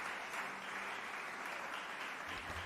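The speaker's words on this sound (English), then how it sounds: "Thank you very much for the round of applause." Steady applause from a large crowd, a dense, continuous wash of clapping that holds at an even level from start to finish.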